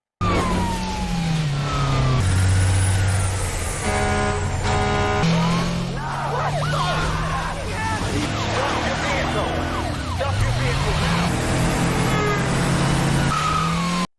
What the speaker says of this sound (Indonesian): Sopir truk melaju kencang di jalanan, mencoba memacu kendaraannya lebih cepat dari polisi